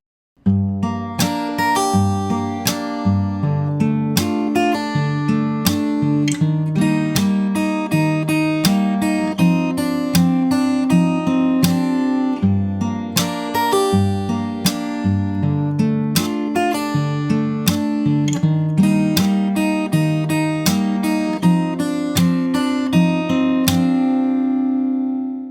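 Solo fingerpicked acoustic guitar, the second pre-chorus of a song, with a steady flow of plucked notes over open bass strings, close and sustained throughout.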